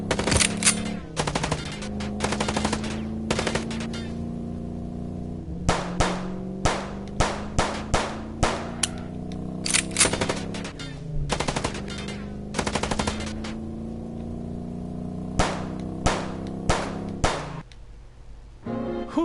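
Gunfire from the video game Chicken Police: Paint it Red, rapid bursts of sharp shots in long volleys with brief pauses, loud and close over a steady droning background.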